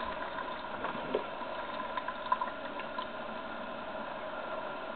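A Spacemaker ODC325 coffee maker brews, a steady soft bubbling and gurgling hiss with faint ticks and a few small pops, continuous and fairly quiet.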